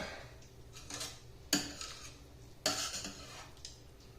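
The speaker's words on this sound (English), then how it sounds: "I'm going to stir that in." A spoon stirs a teaspoon of white pepper into a pot, giving two sharp metallic clinks against the pot between soft scraping. The sound is quiet and close, with no talking.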